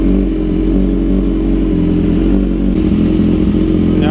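A BMW S1000RR motorcycle engine idles loudly and steadily up close after an ECU remap, its revs rising and falling slightly in an uneven rumble.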